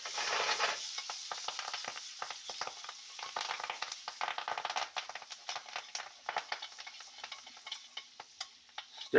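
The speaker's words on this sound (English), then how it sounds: "That popping is actually the rosemary" Fresh rosemary crackles and pops in hot butter as it is stirred in a pan, a close, steady sizzle broken by dense, irregular snaps and scraping stir sounds.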